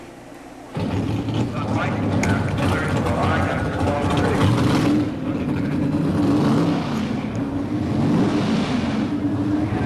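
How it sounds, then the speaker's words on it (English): Pro Stock drag racing car engines at the 1977 NHRA Summernationals, a loud continuous rumbling drone that starts abruptly and holds steady as the cars roll toward the starting line, with speech over it. "Racemaster, light the Pro Stock, sending towards the starting line, please."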